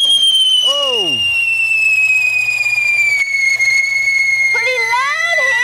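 A homemade hero engine fires with a loud, sustained whistle that slowly drops in pitch, with sharp rising and falling shrieks layered on top.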